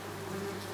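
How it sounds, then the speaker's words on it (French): Wasps fly near their nest, which sits inside plasterboard, making a close, steady buzzing drone throughout a brief moment with no talk. "Ah mais c'est les guêpes qui passent devant qu'on voit."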